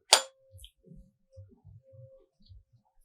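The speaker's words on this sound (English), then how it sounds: "So I am taking this tuning fork, vibrating with this rubber hammer and keeping on the top of this mouth." A 512 Hz tuning fork struck with a rubber hammer gives a sharp metallic strike and then a faint, thin sustained ring, with sparse low voices murmuring in a quiet room.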